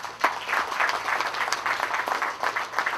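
Audience applause at a road opening ceremony, a fairly loud, continuous wash of many hands clapping for about three seconds with no speech.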